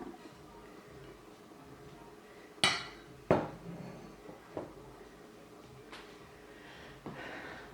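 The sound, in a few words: dumping vegetables into a pot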